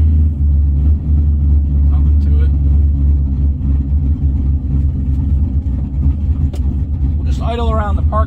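A car engine idles steadily after a hot start, a close, low rumble that holds even throughout, with a voice speaking briefly near the end.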